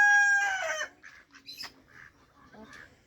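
Chickens of a hen breed cackle and cluck near the microphone, a loud drawn-out call at first followed by several shorter, quieter clucks and squawks.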